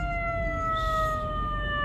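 A wailing siren on a Bronx street sounds steadily, its tone gliding slowly downward, heard at moderate distance over low traffic rumble.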